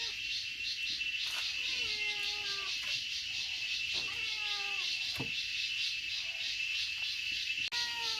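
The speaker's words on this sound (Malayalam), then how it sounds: "എന്നാ പൂച്ചേ?" A cat in a home kitchen gives several repeated meows, each a falling, drawn-out call, over a loud steady whine of insects or frogs outside, with a few faint knocks between the calls.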